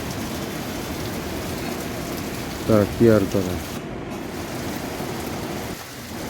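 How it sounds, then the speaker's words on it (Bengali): Heavy rain pours over waterlogged Dhaka in a dense, constant hiss, with a short burst of speech heard through the downpour. "এদিকে ঝুম বৃষ্টি হচ্ছে"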